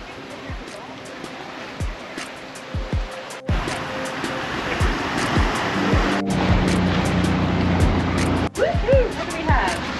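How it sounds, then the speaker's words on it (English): A stormy sea off the Seychelles roars with big waves and strong wind, a constant loud wash of surf and gusts with voices talking intermittently over it. "Strong winds, rain, incredibly big waves."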